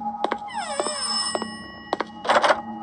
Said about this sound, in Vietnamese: Tiếng chuông điện thoại.